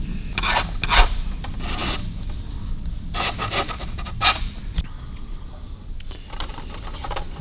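Deburring the inside of freshly cut brake line tubing makes rapid rasping and rubbing strokes, close and moderately loud, coming in short bursts with brief pauses between them.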